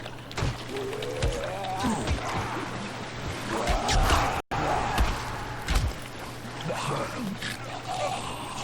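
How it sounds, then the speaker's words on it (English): Zombies splash and die in water in the Dying Light video game, with several sharp splashing impacts over a steady game soundtrack and droning background. "Zombies dying in the water"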